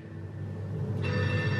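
A telephone rings inside the horror video game Outlast 2, a steady electronic ringing tone over a dim game ambience, with no one talking.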